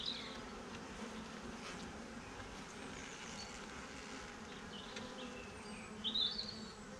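Honeybees buzzing in an open hive during an inspection, a steady close drone of many bees with an occasional louder bee passing near, no talk.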